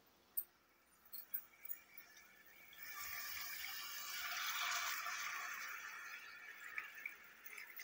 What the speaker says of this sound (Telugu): ఇప్పుడు ఇందులోకి వాటర్ యాడ్ చేస్తున్నాను.